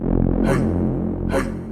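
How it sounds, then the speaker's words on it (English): A thick, buzzy Reese synth bass note from Bitwig's FM4, with oscillator 1 feedback raised, held steadily, with two short bright swells of higher harmonics partway through. "the last sound that we're going to cover is just a really easy Reese"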